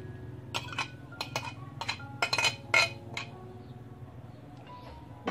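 Cabbage salad and vegetables are mixed in a bowl with a utensil, giving a run of sharp clinks and scrapes that come in quick bursts, close and fairly loud, then fade to quiet handling near the end.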